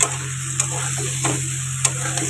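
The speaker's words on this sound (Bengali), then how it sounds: "এবারে আলুগুলো দিয়ে দিলাম, ভালো করে নাড়িয়ে" Potatoes stirred and fried in a pan, a steady sizzle under a few sharp scrapes and clicks of the spoon, close and fairly loud, no talk.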